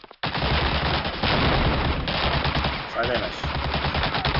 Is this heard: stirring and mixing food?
no